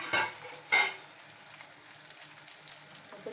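Brinjal cooks in a pan, with a soft, faint sizzle and two short stirring scrapes near the start, then a quiet, even crackle.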